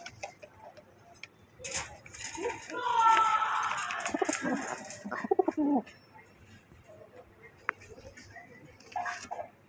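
Budapest racing pigeons at a seller's loft coo softly and intermittently, close by, mixed with ticking clicks and other bird calls while someone talks over them.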